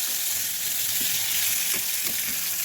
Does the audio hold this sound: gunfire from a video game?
no